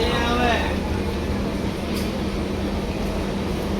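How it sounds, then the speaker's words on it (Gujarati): The Jabalpur Express pulls out of a railway station with a broad, continuous rumble of rolling wagons, while a person talks over it nearby. "તો જો હવે ટ્રેન છે ને નીકળી ગઈ છે."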